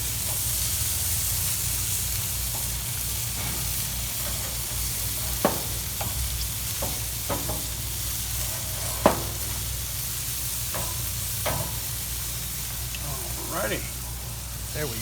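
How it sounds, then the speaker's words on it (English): Burgers sizzle on a Charbroil grill with a steady, close hiss, punctuated by sharp clicks and pops as the patties are handled and flipped, while a low hum and a voice run underneath. "what we'll do is flip these burgers over"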